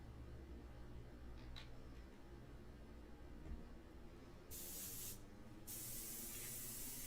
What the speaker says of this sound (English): in the beginning it's light mixture, and then we'll move over to medium mixture